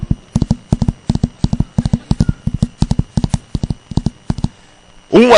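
A horse's hooves clop in a quick, steady galloping rhythm, close and clear, ending in a sharp neigh.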